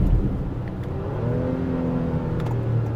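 A Honda Pilot 3.5 liter V6 engine drops a gear, its tone stepping audibly under steady road rumble as the revs rise and then settle, heard from inside the cabin.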